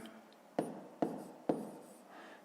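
Pen or pencil writing by hand during a fifth-grade maths exercise on fractions, heard as four sharp taps or strokes spaced about half a second apart, close and fairly quiet with no talking.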